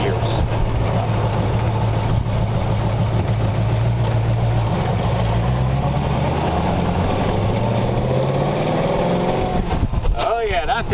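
Engine of a 1932 roadster hot rod under way on a test drive, a steady low drone with rising and falling pitch as it pulls, loud and constant, with people talking over it.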